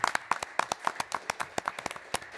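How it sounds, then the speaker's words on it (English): Audience applause at a hustings event: a sparse round of hand claps, a couple of dozen distinct claps spread evenly over a couple of seconds, moderately close and fairly quiet, with no voices. "round of applause, please, for them."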